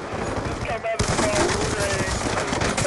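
Rapid continuous gunfire in Call of Duty, dense overlapping automatic bursts filling the whole stretch, loud and up close, with voices talking over the shooting.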